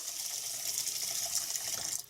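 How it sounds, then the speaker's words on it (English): Tap water pours steadily into a bowl during andouille sausage making, a continuous bright hiss and splash that holds even from start to finish with no talk. "You want to run your water into the bowl beforehand."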